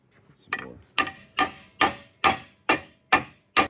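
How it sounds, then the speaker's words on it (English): A big hammer strikes a punch on a hot, stuck part of a Columbian #206 vise, eight sharp metallic blows at a steady rhythm, loud and close with no talking. "Big punch, big hammer, we got it to move"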